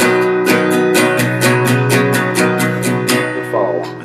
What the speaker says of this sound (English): And also with the G, I remove my little pointer finger.